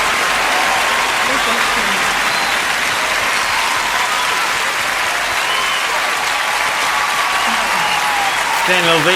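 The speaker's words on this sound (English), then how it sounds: "Standing ovation." Loud, sustained standing-ovation applause from a large crowd at a live 1988 Grammys performance, a dense continuous roar of clapping with voices talking over it.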